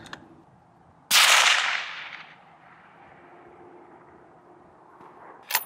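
A long-range rifle shot cracks loudly once near the start, its report echoing and decaying over about a second into quiet outdoor ambience, with another sharp impulse just at the end.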